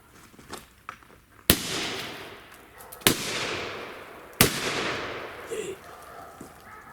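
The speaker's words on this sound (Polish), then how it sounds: "Te petardy mają dobre dupnięcie." Old firecrackers going off outdoors, three sharp loud bangs spaced about a second and a half apart, each followed by a lingering echoing rumble, with faint background sounds between blasts.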